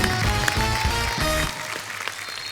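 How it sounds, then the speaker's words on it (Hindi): A studio audience on The Kapil Sharma Show applauds to welcome Ajay Devgan and Abhishek Bachchan; loud clapping sits under a punchy burst of band music that cuts off midway, leaving softer applause trailing. "जोरदार तालियां एक बार अजय सर और अभिषेक सर के लिए"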